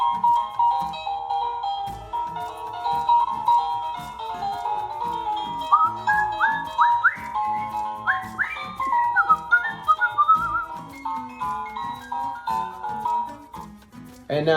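Someone whistles along to a cartoon theme song played by a small musical ornament, a bright wavering whistled melody over a tinkly clicking tune, close and moderately loud.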